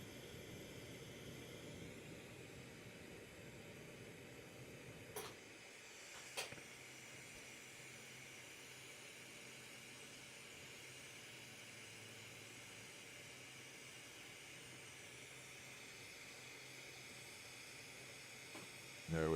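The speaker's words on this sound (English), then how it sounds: "Just going to use the afterburner for a second." A glassblowing afterburner torch roars as a steady, faint broadband hiss heating molten glass, continuous for the whole stretch with a couple of brief clicks partway through.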